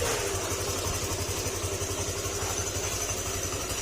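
A motorcycle engine idling quietly and steadily with a low, even rhythmic chug and a faint mechanical whine, close and unchanging.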